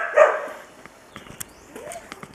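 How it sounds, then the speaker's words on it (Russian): Small dogs give one close yip-like bark followed by scattered faint clicks and light shuffling in a quiet room. "Собачка на меня. Такие маленькие, хорошенькие."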